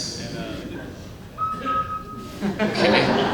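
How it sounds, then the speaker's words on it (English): Slide whistle at a symphony orchestra concert gives a short sustained tone of about half a second, set among voices and background hall noise, with a few brief, quieter pitched blips after it. "it's a slide whistle"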